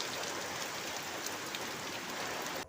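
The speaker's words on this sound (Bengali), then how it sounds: "এই প্রবল বৃষ্টি ঝড়ও হচ্ছে খুব বাইরে" Heavy rain pours outdoors during a storm, a dense, loud, unbroken hiss that stops abruptly at the end.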